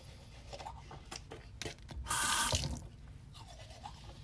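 Water from a tap runs into a bathroom sink during tooth brushing, with quiet scrubbing and splashes, then a louder surge of running water in the middle before it settles again, all close and fairly faint.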